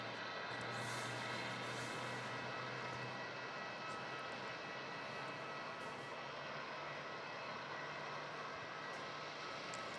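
A Jetstar Airbus A320 moves along a runway at Melbourne Airport. Its engines make a faint, steady, distant roar that holds constant throughout, with no speech.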